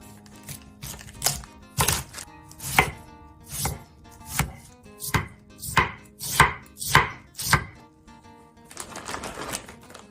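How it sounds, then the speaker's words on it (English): A knife shredding cabbage thinly on a cutting board, a loud close series of crisp crunching chops in an uneven rhythm, about a dozen strokes, then a softer rustle, no talk. "For the cabbage, just shred it thinly."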